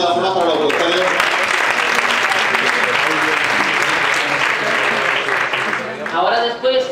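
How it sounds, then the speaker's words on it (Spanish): An audience at a food marketing event applauds for the food producers, a dense sustained clapping that fills the space for several seconds and thins out near the end as voices emerge. "Un aplauso de todas formas para los productores."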